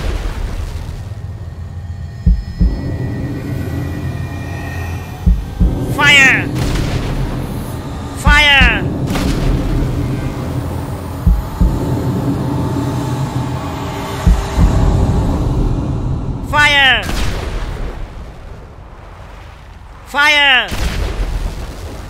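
Gunfire and artillery in GTA 5 come as heavy booming blasts and sharp shots spread across the span, with several loud whistling impacts, all mixed under a continuous rumbling battle din.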